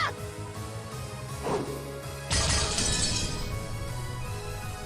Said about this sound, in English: And the sound of breaking glass, which startled Jessica.